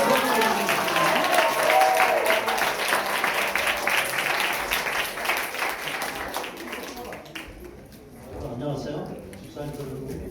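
A church audience at a science-and-creation lecture claps loudly to welcome a speaker, the dense applause slowly tapering away and giving way to talking.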